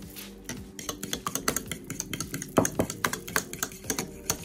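A seasoned omelette mixture of egg, pepper, salt and spices is stirred briskly in a bowl, giving a quick, uneven run of sharp clinks and taps as the utensil strikes the sides.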